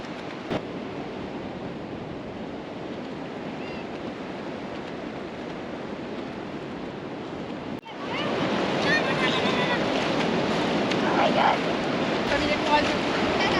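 Ocean waves break and wash continuously at a beach, with gusts of wind buffeting the microphone. The surf grows noticeably louder and closer partway through.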